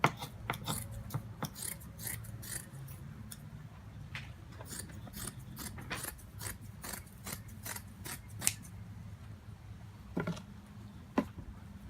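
Scissors snip through excess fiberglass cloth along the top edge inside a boat hull, giving quiet, fairly close, irregular crisp cuts with faint rustling of the cloth between them.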